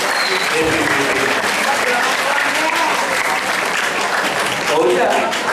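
A school hall audience at a junior high school applauds students with loud, sustained clapping throughout, with crowd voices mixed faintly underneath.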